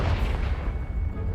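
A Confringo spell explosion in the video game Hogwarts Legacy: a loud, deep rumbling blast with a heavy low boom that fills the whole moment without a break.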